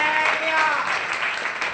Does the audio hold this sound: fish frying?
no